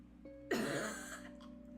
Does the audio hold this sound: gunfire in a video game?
no